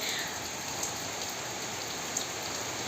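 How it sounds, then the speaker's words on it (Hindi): Heavy evening rain falls with wind: a dense, even hiss of rain hitting surfaces, steady and close, with a couple of sharper drop taps and no talking. "यहाँ पे इतनी भयंकर बारिश आ रही है, खूब तेज़, और हवा के साथ आ रही है।"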